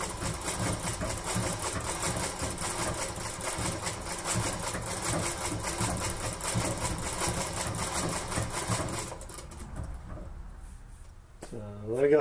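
A treadle-powered Singer 221 Featherweight sewing machine runs with a steady, rapid stitching clatter for about nine seconds, then slows and stops. It sounds close and fairly loud.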